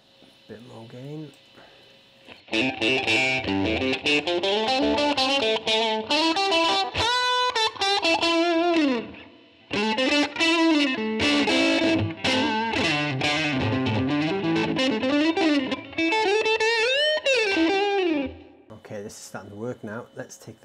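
Distorted, overdriven electric guitar plays through a Line 6 Helix amp model, in loud sustained phrases with bent notes and brief pauses between passages.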